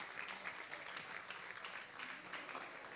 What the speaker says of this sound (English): A round of applause For Tomas.